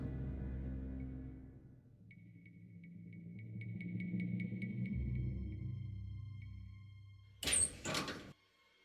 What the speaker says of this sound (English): Oh, that's the door.